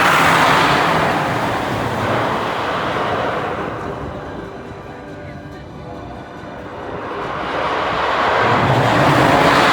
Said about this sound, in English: the extremely loud roar this ride makes when the car travels up the structure